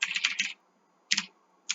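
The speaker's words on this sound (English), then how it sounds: "that's Shift A, or typing the letter capital A" A computer keyboard is typed on while working in the Vim text editor: two quick bursts of clicking keystrokes, then a short pause and a single brief tap, close and crisp with no talk.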